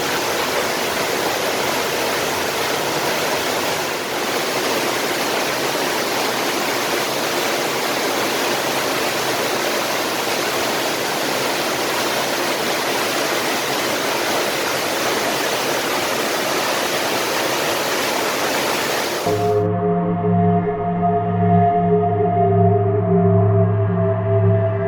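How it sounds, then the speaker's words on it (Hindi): Karlan waterfall near Abbottabad pours in a loud, steady, close rush of water that fills the scene, then gives way near the end to a droning, humming tone. "ये सामने आप आबशार देख सकते हैं, बहुत ही खूबसूरत नज़ारा है।"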